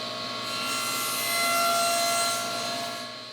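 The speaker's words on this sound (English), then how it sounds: "I'm going to use my mini table saw sled along with the fence to make this cut" A mini table saw with a sled and fence cutting through wood, a steady whining blade with a dense rasping bite that swells in the middle and eases off toward the end, close and alone.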